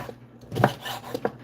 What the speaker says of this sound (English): Cut this up somewhat. Help the blender out.